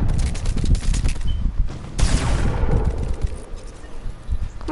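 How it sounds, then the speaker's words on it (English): Rapid gunfire in Fortnite, a dense burst of close, loud shots with a sharp blast partway through, followed by scattered further shots and rattling action. "Come on, Bullets."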